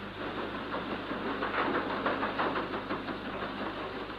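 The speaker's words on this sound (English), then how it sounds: "Powerful engines throb into life, and the heavy-laden vessel is eased from her berth into the main channel." Heavy ship engines throbbing steadily as tugs ease a laden cargo vessel from her berth into the Manchester Ship Canal, a continuous low rumble with a faint pulsing rhythm and no voices.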